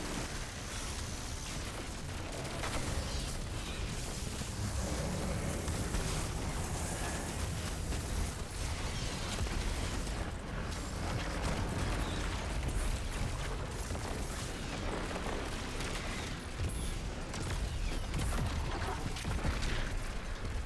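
Explosions and heavy blasts from the sci-fi shooter Destiny 2, a dense, continuous roar of booms and crackling debris that stays loud and sustained throughout, with no talking.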